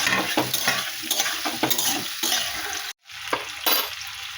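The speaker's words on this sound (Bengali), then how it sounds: "পেঁয়াজ আলু একটু ভালো করে ভেজে নিই" Onion and potato sizzle and fry in a pan, loud and close, with repeated scraping stirs of a spatula and one brief pause before the crackling resumes.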